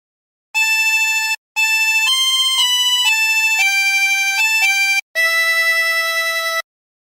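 Twenty-hole tremolo harmonica playing a phrase of Silent Night, sustained wavering reedy notes in a slow melodic line with brief breaths between them, close and loud with no talking.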